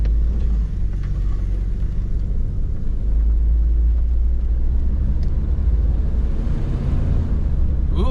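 Steady, loud low rumble of a 1988 Toyota FJ62 with about 290K on it, engine droning continuously as it drives and shifts gears, with no talking.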